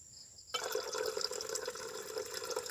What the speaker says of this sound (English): Then add hot water again.